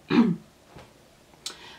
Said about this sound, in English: I just had a coughing attack.